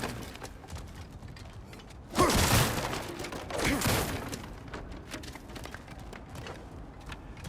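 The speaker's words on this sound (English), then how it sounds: "back to smashing through things for fun and profit" Objects get smashed in the God of War Ragnarök video game, a loud crash and shattering burst followed by a second breaking impact, over a quieter background of creaks and small clattering.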